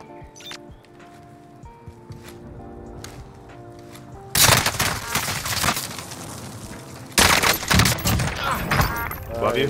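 An RPD light machine gun fires long automatic bursts in the video game Warzone, loud and dense, after a stretch of quieter game ambience. Players talk over the action.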